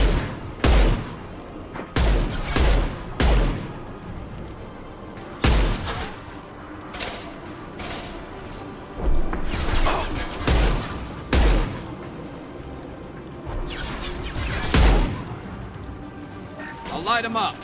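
Gunfire in the Mass Effect 2 shooter comes in repeated loud bursts of rapid shots and booming impacts, spaced across the clip with brief gaps between volleys. Voices shout amid the shooting.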